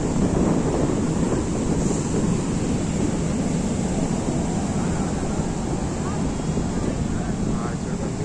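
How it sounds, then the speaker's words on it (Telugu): Ocean waves roll in at Candolim beach in Goa, a continuous loud wash of surf mixed with heavy wind buffeting on the microphone. "అలలు చాలా మంచిగా వస్తున్నాయి ఫ్రెండ్స్"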